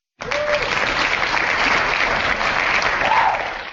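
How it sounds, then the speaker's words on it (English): Canned applause from an applause button bursts in abruptly and keeps up as a dense, even wash of many hands clapping, loud and close, before tapering slightly at the end. "my applause button broke"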